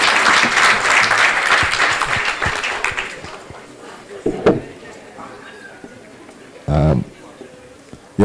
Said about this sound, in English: May we give them a round of applause as they step down.